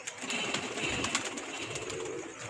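A Teddy breeder pigeon in a breeding setup coos softly and close, a short murmuring call over a busy, hissy background with scattered clicks.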